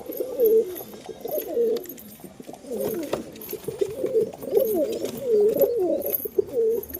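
Pigeons coo continuously up close, soft throaty warbling calls overlapping one another without pause, with faint rustling in the background.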